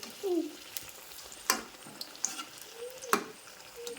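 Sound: mirchi bajji frying in oil

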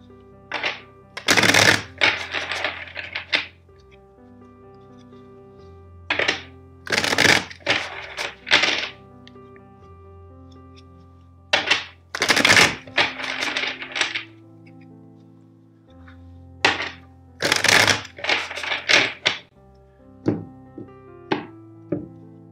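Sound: shuffling tarot cards

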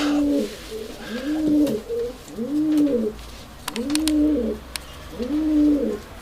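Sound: Urfa Arab pigeons cooing

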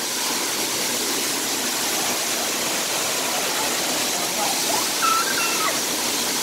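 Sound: waterfall

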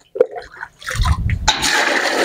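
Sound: water poured from a cup

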